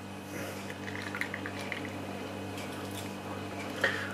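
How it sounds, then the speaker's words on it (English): Mohawk Black IPA poured from a bottle into a glass, a quiet, close liquid gurgle and fizz over a low steady hum, ending with a small splash. "Let's get this beer open into a glass."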